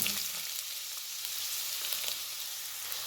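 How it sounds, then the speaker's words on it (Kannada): Chopped onion hits a tablespoon of hot oil in a pan and fries with a faint, steady, hissing sizzle that carries on evenly throughout, with no talking. "ಈಗ ಆನಿಯನ್ ಆ್ಯಡ್ ಮಾಡ್ತಾಯಿದ್ದೀನಿ."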